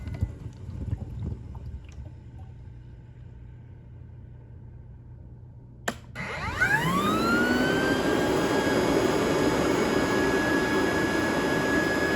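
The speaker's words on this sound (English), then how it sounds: "This is one of my favorite sounding vacuums. Just the way that wind-up sounds." A 2016 Rainbow E2 Black vacuum cleaner switches on with a click and its motor winds up in a rising whine that settles into a loud, steady roar, following a lower hum from its air-purifying mode.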